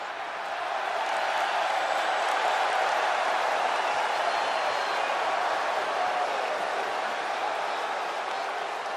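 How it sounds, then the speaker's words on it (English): A large arena crowd roars without a break during a ladder match in the wrestling game WWE 2K24, a dense, loud, wash of cheering and applause that holds for the whole stretch. "you can already hear the roar of the crowd as this ladder match gets underway"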